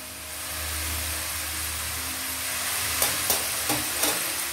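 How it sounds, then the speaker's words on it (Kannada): Karasev sev sticks fry in hot oil, a steady close bubbling sizzle that holds throughout, with a few sharp clicks and taps near the end as they are turned, no voices. "ಚೆನ್ನಾಗಿ ಎಣ್ಣೆಯಲ್ಲಿ ಫ್ರೈ ಆಗಬೇಕು. ಫ್ರೈ ಆದಮೇಲೆ ಇದು ಸೌಂಡ್ ಬರುತ್ತೆ"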